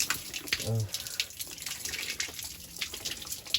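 Cold water splashes and pours intermittently over someone bathing, close by, with brief murmuring voices.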